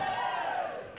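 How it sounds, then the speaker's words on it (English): A wrestling arena crowd roars and cheers in strong support of a wrestler during a match, a loud, dense, sustained wall of voices that eases slightly toward the end. "Right now, crowd full support for Visage."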